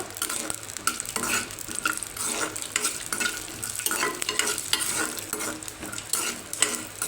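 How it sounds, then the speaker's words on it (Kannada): Peanuts are dry-roasted and stirred in a pan with a spatula, making a continuous scraping, rattling sizzle in quick, uneven strokes, close and fairly loud with no voices. "ನಾನು ಶೇಂಗಾನ ಹಾಕ್ಕೊಳ್ತಾ ಇದ್ದೀನಿ. ಹಾಕ್ಕೊಂಡ್ಬಿಟ್ಟು ಚೆನ್ನಾಗಿ ಹುರ್ಕೋಬೇಕು."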